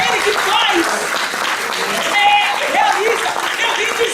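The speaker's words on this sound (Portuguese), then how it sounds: "pode aplaudir para Deus, pode aplaudir" A church congregation claps together in dense, steady applause throughout, with a preacher's voice speaking over it.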